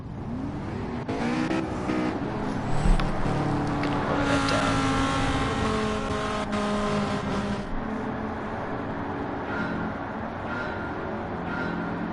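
Race car engines in a racing video game roar steadily throughout, with layered revving and pitch shifts as the cars run down the track, dense and loud the whole time.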